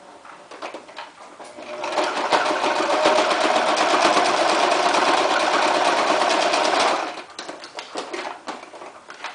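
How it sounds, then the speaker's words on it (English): A sewing machine stitches down the side of a onesie extender in one steady, fast, buzzing run of about five seconds, fairly close, with quieter handling noises before and after. "I may as well just sew the other side down really fast"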